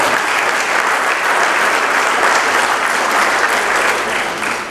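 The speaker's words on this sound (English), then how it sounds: "Please give a big round of applause." Dense, sustained applause from a large audience at a homoeopathic medical college graduation ceremony, loud and even throughout, easing slightly at the close.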